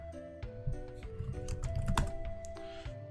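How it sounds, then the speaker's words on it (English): Rapid, uneven clacking of keys on a computer keyboard, close and fairly loud, with bursts of quick strokes and short pauses, heard alone without talk. "Why is it that whenever I'm being recorded, I can't type worth a darn?"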